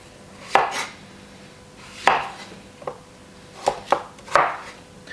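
Apples are cut with a knife on a board, with about six sharp, separate knife strikes at uneven intervals against a quiet background, close and distinct.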